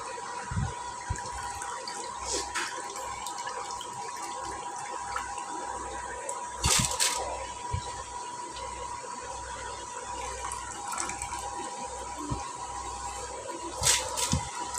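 Washed broken rice (khud) tipped into a pot of ginger-garlic paste, bay leaf and salt fried together, giving a wet, watery pouring and gushing sound over about fifteen seconds with a few sharper splashes and no talking.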